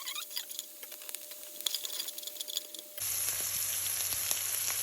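Onion frying in a pan, a steady close sizzle that jumps louder and brighter partway through as the onion hits the hot oil, with no talk.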